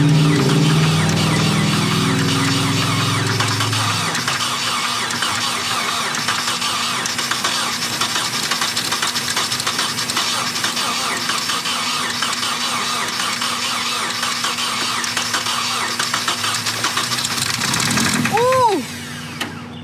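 An abandoned Nissan S13 240 runs with a rough, loud engine drone that lowers after a few seconds, holds steady, then fades as it dies near the end, with a short squeal at the finish.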